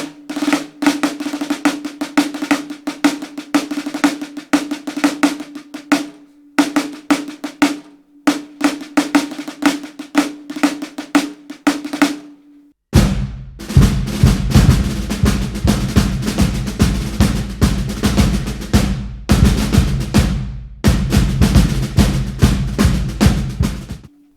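Snare drum playing a rudimental march in 5/4, with crisp rhythmic strokes, rolls, flams and ruffs in close, loud bursts separated by brief pauses, the snare rattle ringing underneath.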